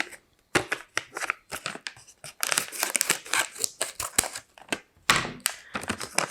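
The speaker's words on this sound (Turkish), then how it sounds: "Hemen bir makas yardımıyla paketlerimi açıyorum" Repeated crisp scissor snips and crinkly plastic rustling as packages are opened, close by, in short irregular bursts with brief pauses between cuts.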